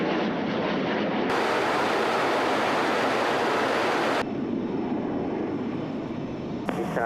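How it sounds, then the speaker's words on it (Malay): Royal Malaysian Air Force military aircraft flying in formation as they return to base to land, a loud, steady, continuous engine roar that swells and then eases slightly, with no talking. "pesawat terlibat akan pulang ke pangkalan sambil membentuk formasi sebelum melakukan"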